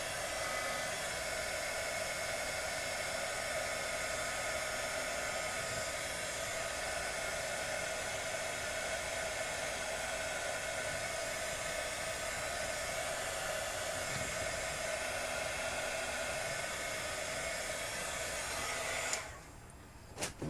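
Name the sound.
hair dryer drying airbrushed craft paint on tumbler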